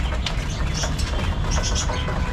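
Female pigeons waiting in a loft make soft cooing and fluttery calls amid a dense, noisy background, close and continuous through the short stretch.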